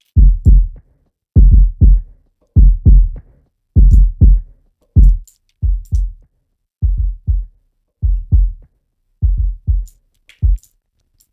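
Deep, heavy bass thumps repeat in a steady pulsing rhythm, each one distorted and gritty from Phat FX saturation, with brief silences between them.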